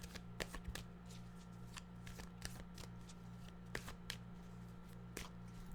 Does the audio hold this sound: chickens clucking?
no